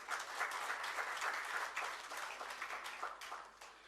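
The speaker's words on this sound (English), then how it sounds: "Do you feel like giving a big round of applause to yourself?" An audience at a keynote address claps steadily for several seconds, a dense, even patter of applause that slowly eases off toward the end.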